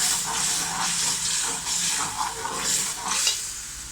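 Masala of ginger, garlic, green chili and tomato purée frying in oil for beef trotters (paaye), with a loud, close, continuous sizzle broken by rhythmic swishes of stirring, no talking.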